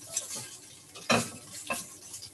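Tofu stirred and frying in a pan, with a soft sizzle under a few scraping, clinking stirs of a utensil against the pan, close and fairly quiet.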